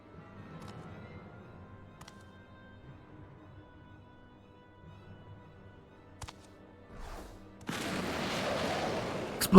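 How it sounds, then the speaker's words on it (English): A rumbling, broadband blast from the video game Final Fantasy XIV erupts near the end after several seconds of quiet game ambience and faint soft effects, then holds steady and loud. "Explosion."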